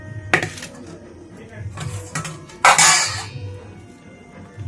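Boiled potatoes pressed and mashed in a metal strainer in a home kitchen, heard as a few sharp metallic clanks and scrapes of utensil against strainer, with softer handling noises between them and no talking.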